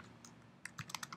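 Rapid keystrokes clatter on a computer keyboard, a quiet stretch followed by a short burst of several clicks close by.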